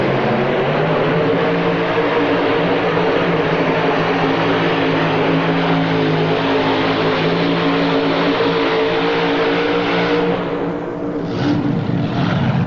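Supercharged V8 pulling tractor at a 1986 indoor tractor pull, a loud sustained engine roar filling the whole clip with steady low harmonics, dipping briefly near the end before surging again.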